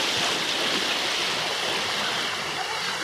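Flood water rushes in a loud, steady stream after heavy rain, a dense continuous roar filling the whole moment without pause.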